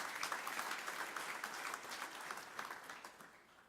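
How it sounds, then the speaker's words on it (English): Audience at a University of the Western Cape rector's installation ceremony claps warmly in a steady, dense ovation that holds evenly and then gradually fades toward the end. "Let's give Professor Balfour a warm round of applause"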